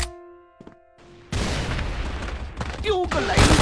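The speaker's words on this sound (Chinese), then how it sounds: "手雷投掷" In the CF Mobile game, a grenade is thrown after some short beeps and a click, then a loud, sustained blast with rumbling and crackling debris, followed by whistling tones and more bursts.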